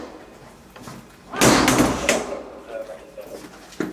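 Cell door at a police station swung shut, a loud slam-like impact with rattling follow-up, heard over background chatter and voices talking nearby.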